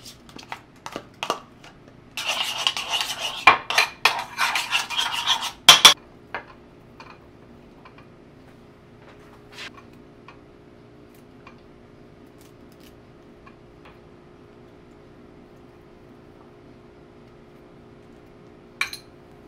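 Dishes and cutlery clink and scrape while a yogurt and fruit parfait is put together, with a busy burst of clattering early on, then a quiet room with only a few sparse taps.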